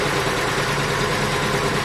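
A small engine idles roughly with a steady mid-pitched hum and slight shake, its carburetor still needing adjustment, heard close and alone for a brief moment.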